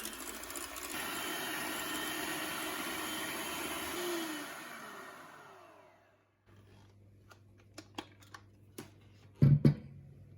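An electric hand mixer whirs steadily while beating eggs with sugar and vanilla sugar in a bowl for cupcakes, then winds down and stops, followed by a few light clinks and knocks.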